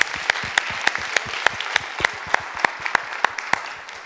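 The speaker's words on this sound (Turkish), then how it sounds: "Şöyle yüksek bir alkış gelsin." Loud audience applause at a relationship and marriage counseling training session, a steady wash of clapping with sharp individual claps punctuating it for about four seconds.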